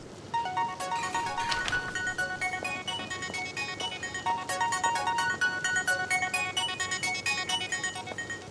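A melodic electronic phone ringtone plays continuously, a bright repeating tune of tones at moderate volume with no talking.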